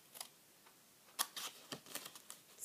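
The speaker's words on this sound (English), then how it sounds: "you're going to take your scissors and you're going to clip out the corners" Scissors snip the corners off scored, folded paper for a Halloween cake mix tote, giving a handful of quiet, sharp clicks at uneven intervals, close by against near silence.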